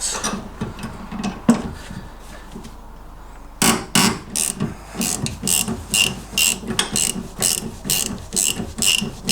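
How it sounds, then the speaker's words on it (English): A socket ratchet clicks in quick rhythmic bursts while loosening a 9/16 pinch bolt on an MGB lever arm damper, close up, with a pause before a steadier run of clicking strokes. "I'm just going to have to loosen this pinch bolt"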